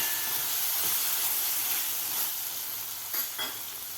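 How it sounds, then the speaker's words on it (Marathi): Soaked lentils being sautéed in spice masala for a ridge gourd dish, giving a steady close hissing sizzle with a couple of brief stirring scrapes toward the end, no talking. "डाळ सुद्धा आपल्याला व्यवस्थित परतून घ्यायची आहे मसाल्यामध्ये"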